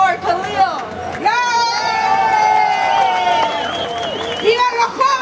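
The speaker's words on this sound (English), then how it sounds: "Give a round of applause for Khalil." A May Day rally crowd on International Workers' Day cheers and claps, with sustained shouting and high whoops over loud, continuous crowd noise and voices mixed in.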